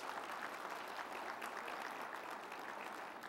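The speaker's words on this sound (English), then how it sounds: "Let's give her a resounding round of applause." An audience at a university community breakfast applauds, a dense steady round of clapping from many hands that fills the room for a few seconds without any voices over it.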